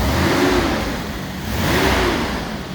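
A 1987 Mercedes SL560 engine given two quick revs, each swelling and easing back toward idle, loud and close with no talking.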